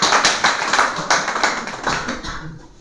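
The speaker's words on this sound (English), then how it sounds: "a lot of clapping for first" An audience in a spoken English class claps for the first group, a dense, steady round of applause with rhythmic pulses that gradually thins toward the end.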